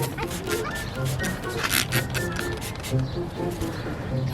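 Pigeons coo and flutter in a loft while a breeder bird is handled and taken out, soft repeated cooing and rustling close by, mixed with people talking.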